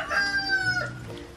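Chickens in their coop clucking and a rooster crowing nearby, with a drawn-out call over general farmyard noise.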